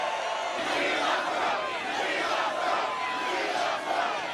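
A large political rally crowd in New York roars and cheers continuously, a dense, loud wash of many voices with no single speaker standing out.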